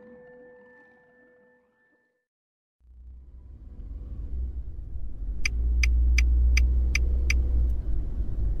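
A Toyota Land Cruiser starts driving after a brief silence, and its deep engine and road rumble build and hold steady and loud, with a short series of sharp clicking pulses near the end.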